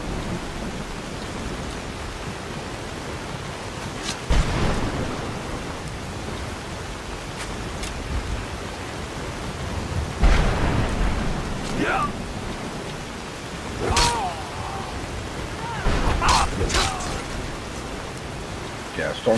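Storm Call shout in Skyrim summoning a thunderstorm, steady rain hiss with several sharp thunder cracks and rumbles at intervals, and people talking over it.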